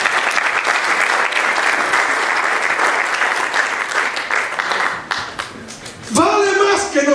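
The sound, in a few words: congregation applauding in church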